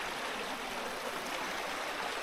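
A babbling brook in the Derwent Valley runs steadily on a winter morning, a continuous close rush of water with no voices or breaks.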